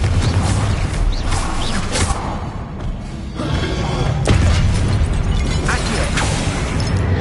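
Fiery spell blasts in Hogwarts Legacy: a string of loud, broad thumps and bursts rolls over a dense, busy game soundscape, with sharp onsets near the start and again around the middle.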